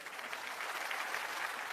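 A crowd at a Jan Suraaj political gathering in Bihar claps in a brief, even burst of applause, heard alone and at moderate distance.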